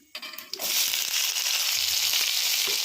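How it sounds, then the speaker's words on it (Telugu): Loud, steady sizzling of tempering spices frying in hot ghee for rice rava upma, starting with a few crackles and then settling into a continuous hiss. "నెయ్యి వేసి తాలింపు పెట్టేసాను తాలింపు అయితే కాలుతుంది"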